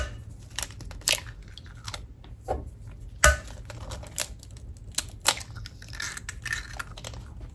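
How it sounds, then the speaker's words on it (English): Two eggs are cracked into a mixing bowl for a batter, with crisp close shell cracks and light taps scattered through a quiet kitchen, one crack standing out louder than the rest. "Now we're gonna add 2 eggs."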